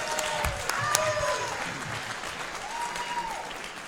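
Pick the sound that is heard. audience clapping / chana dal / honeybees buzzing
audience clapping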